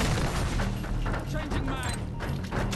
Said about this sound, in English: Throwing sticky grenade.